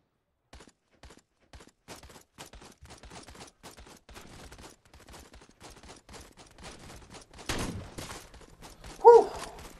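Sparse sniper rifle shots in a video game, faint and distant at first, then a louder, closer crack near the end, with quiet footsteps and small clicks between them.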